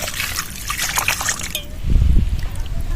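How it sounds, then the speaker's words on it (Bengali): Water trickles and splashes into a bowl of cut raw green mangoes, a close pour with a brief slosh near the end. "মধ্যে জল দিয়ে দেবো"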